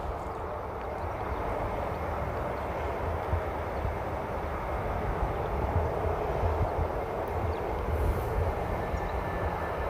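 JetBlue airliner arriving from Boston at Amsterdam Schiphol, a steady, loud broadband jet engine roar that holds evenly throughout, heard from a spotting position with no talk.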